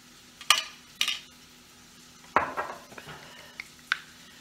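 A plastic air fryer lid comes loose and clatters in a kitchen, a handful of sharp knocks and rattles spread unevenly over a few seconds against a quiet background.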